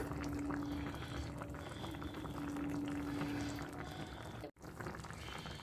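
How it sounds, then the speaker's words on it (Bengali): Fish curry with cauliflower and potato bubbles in a pot, a steady, even close simmering that continues without pause apart from one brief cutout near the end. "কিছুক্ষণ ফুটিয়ে নেব মাছ দিয়ে ফুলকপি আলুর ঝোল আমার প্রায় রেডি"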